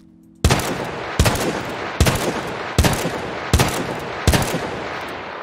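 Six evenly spaced, loud gunshots ring out from a Peacekeeper Colt Single Action Army revolver fired while aiming down sights in a modded shooter game, each sharp crack trailing into a reverberant tail before the next.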